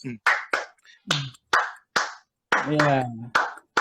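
Hands clap out a Latin clave rhythm in short, crisp, spaced strikes, with a brief sung or voiced phrase cutting in partway through before the claps resume.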